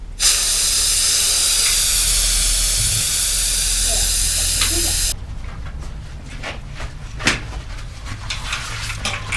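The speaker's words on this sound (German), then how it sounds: "Man nehme sich ein Werkzeug und drücke in die Mitte vom Ventil rein." Air rushes out of a bicycle tyre valve as its centre is pressed with a tool, making a loud, steady, close hiss for about five seconds. The hiss cuts off abruptly, leaving quieter clicks and handling sounds.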